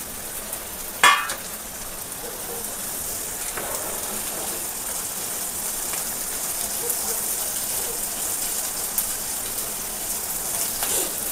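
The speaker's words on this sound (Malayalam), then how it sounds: "സവാളയും പച്ചമുളകും. നമുക്കൊന്ന് ചൂടാക്കാം." Onions and green chillies fry in a pan with a continuous soft sizzle, a sharp clatter near the start and faint stirring scrapes scattered throughout.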